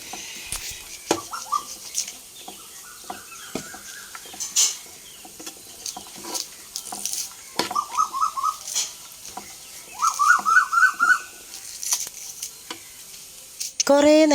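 Tomato masala sautés in a pan with a soft sizzle and occasional stirring scrapes, while birds chirp and whistle repeatedly nearby in a home setting.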